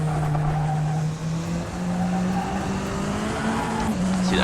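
A race car takes a corner on the Bahrain outer loop with a steady, loud engine drone that shifts pitch through the turn, faint tire noise and light talk underneath.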